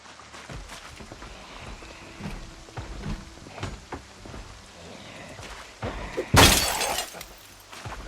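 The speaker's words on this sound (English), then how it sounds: "Just go ahead and remove that glass," Window glass shatters in a zombie apocalypse video game. Soft shuffling and knocks come first, then one sharp, loud crash with the tinkle of falling shards and a short ringing tail.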